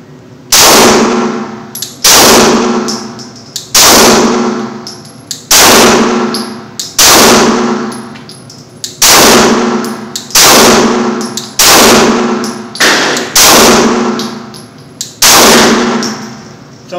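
Repeated gunshots ring out about every two seconds during a Trijicon RMR durability test, each loud crack followed by a bright metallic clang of the bullet striking a steel target.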